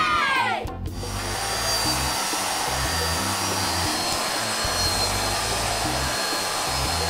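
A hair dryer blows steadily on a doll's hair in a toy beauty salon, a loud continuous whooshing drone that starts after a brief click and runs unbroken throughout.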